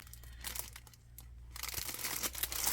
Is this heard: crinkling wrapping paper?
yes